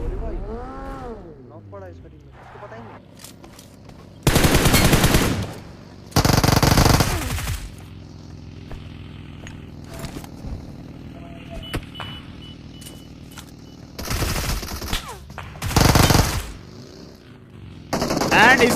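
Automatic and single-shot gunfire in the mobile battle royale game BGMI, loud bursts in several clusters over a stretch of engine hum and in-game effects, with a voice talking in places.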